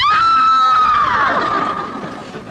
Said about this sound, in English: And from the room upstairs, they heard the scream.